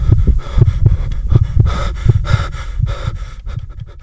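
Heavy, rhythmic breathing of an astronaut in a spacesuit with low thumping heartbeats underneath, close and intimate, pulses repeating steadily for several seconds with no other sounds.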